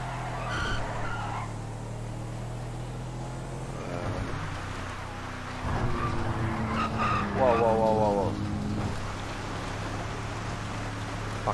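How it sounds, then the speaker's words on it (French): Tires skid and slide loudly as a vehicle loses grip on a motorway in GTA with the LSPDFR police mod. The screeching continues steadily while someone talks over it. "Elle glisse très très fort."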